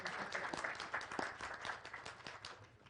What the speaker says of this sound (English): Please let us clap for Craft Silicon.